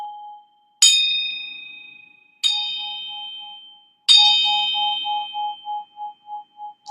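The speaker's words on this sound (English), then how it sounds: "This is my Tibetan bell." A Tibetan bell is struck three times, loud and near. Each strike gives a bright metallic ding that rings on and slowly fades, with a softer low wavering tone beating underneath between the strikes.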